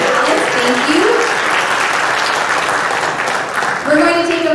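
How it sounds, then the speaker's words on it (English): An audience at the Great American Think Off final debate applauds Boy Scouts collecting ballots. Loud, sustained clapping runs throughout, with a voice speaking over it at the start and again near the end. "can we have a round of applause for our Boy Scouts collecting all of the ballots?"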